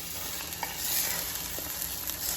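French toast sizzles steadily in a hot pan, a constant close frying hiss with a few soft scraping clicks as the slices are turned, and no voices.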